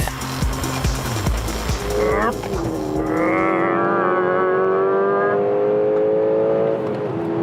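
A sports-car-like engine under 300 hp revving hard, its loud, close note climbing and then holding at high pitch after some rumbling.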